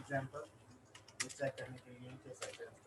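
Quick bursts of computer keyboard typing as C# code is entered, the clicks irregular and fairly close, mixed with someone speaking between keystrokes.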